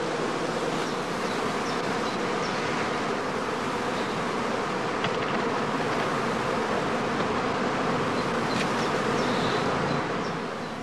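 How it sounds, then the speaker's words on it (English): Dense, steady buzzing of a honeybee swarm pouring out of heather skep hives in an apiary during swarming season, a loud, continuous hum with no talk. "Swarming begins with the first scouts pouring out of the entrance."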